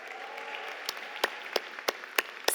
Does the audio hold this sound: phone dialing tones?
no